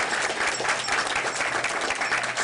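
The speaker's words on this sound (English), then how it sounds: "Can we clap?" Steady, dense applause from the audience at a school board of education meeting, continuous and fairly loud throughout, with no voices over it.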